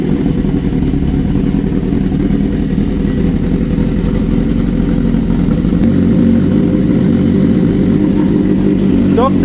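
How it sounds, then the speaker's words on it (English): A BMW S1000RR motorcycle engine runs steadily during a mechanical check after a rebuild, a loud continuous low-pitched drone filling the whole stretch with no pauses. "he's actually going to test and listen to the actual motor just to make sure that there's no funny sounds coming from the motor"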